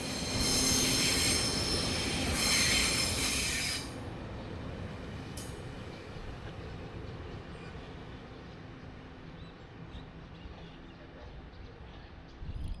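A rumbling 50-year-old locomotive-hauled express train rolls in steadily in Taiwan, with high squealing wheels early on that fade as the rumble settles into a long low drone.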